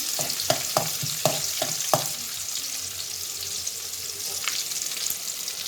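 Green chillies fry in hot oil in a pan for homemade Manchurian, opening with a quick series of sharp spatula taps, then settling into an even, close hiss and crackle.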